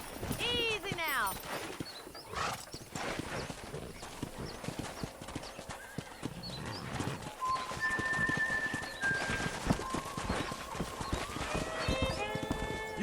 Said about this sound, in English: That ranch hand said there's a pack of wild horses nearby